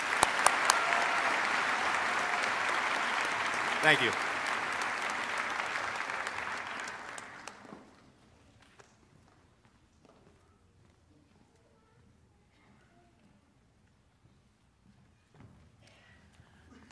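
A graduation ceremony audience for a business school's executive MBA programs gives a round of applause for someone, dense clapping that fades out after about eight seconds into near silence; a voice briefly speaks.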